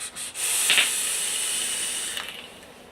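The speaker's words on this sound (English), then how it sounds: "I'm going to take a vape." A long inhale drawn through a BTFC bottom-and-top airflow RDA atomizer, giving a steady airy hiss that holds for about two seconds after a brief crackle at the start, close and with no talking.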